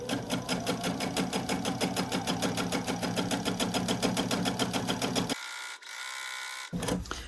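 A sewing machine stitching a quilted dog treat toy runs in a fast, steady rhythmic clatter close to the mic, pausing briefly near the end before starting again.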